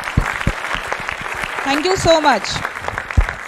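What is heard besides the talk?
audience applause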